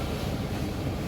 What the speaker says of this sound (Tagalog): Lakas pa ng agos.